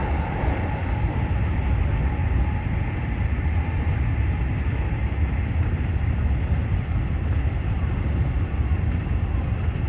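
Tokyu Oimachi Line express train running at speed through stations without stopping, heard from inside a crowded car as a steady loud low rumble and rolling wheel noise, with no talk.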